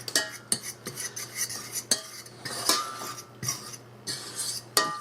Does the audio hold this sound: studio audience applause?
no